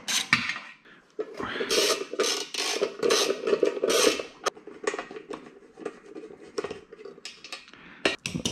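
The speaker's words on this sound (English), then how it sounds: "The next step is to remove those bolts." Metal bolts being worked loose with a long breaker bar under a Tesla Model Y during a trailer hitch install: repeated close metallic clanks, rasps and ratcheting scrapes in uneven bursts, with no talk.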